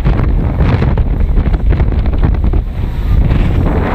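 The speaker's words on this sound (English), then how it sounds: "I'd say that's just gusting sort of 25-30 miles an hour now." Strong wind gusting at roughly 25-30 mph buffets an outdoor microphone in a steady loud roar with surging swells throughout, alone without talk.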